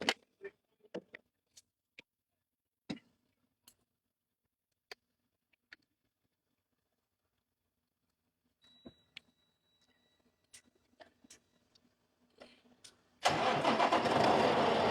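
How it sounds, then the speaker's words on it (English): Faint clicks and taps, then a truck engine cranks and catches into a loud, steady running rumble at the end. "All right, start the engine."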